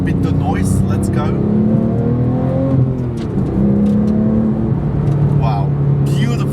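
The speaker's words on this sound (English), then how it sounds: "Naturally aspirated 4-liter flat six of Porsche" Porsche GT3 Touring with a manual gearbox and naturally aspirated 4-liter flat-six, its engine revving and droning loudly and steadily close by throughout, with pitch rising and falling.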